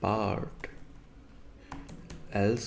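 Sparse, quiet keystroke clicks on a computer keyboard while coding in Unity, heard between stretches of someone talking over them.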